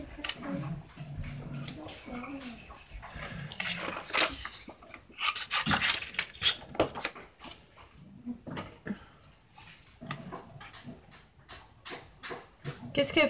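A dog scratching on something, with irregular bursts of rasping and rubbing up close, separated by short pauses, and a person talking in between.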